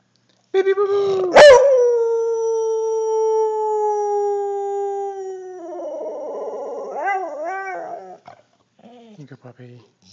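A pet dog howls at close range, one long loud sustained wail that wavers and bends into yips and whimpering moans, then trails off into shorter cries.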